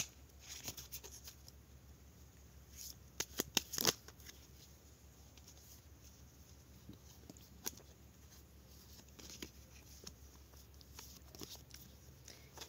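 Tarot cards shuffled and flipped over at close range, a quiet papery riffle with a few sharper slaps and snaps clustered near the middle, otherwise soft rustling over low background hum.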